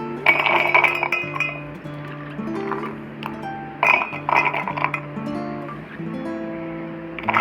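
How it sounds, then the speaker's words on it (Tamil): Peeled almonds drop into a mixer jar, making repeated bright clinks and rattles in small bursts over steady background music. "இப்போ நம்ம தோல் உரிச்ச பாதாமை மிக்ஸி ஜாரில் போட்டு அரைச்சி எடுத்துக்கலாம்."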